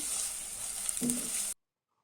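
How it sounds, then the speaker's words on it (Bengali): A cup of chopped onion and garlic sizzles in a hot pan, a steady close frying hiss that cuts off abruptly after about a second and a half. "প্যানে দিয়ে দিলাম এক কাপ পেঁয়াজ রসুন কুচি"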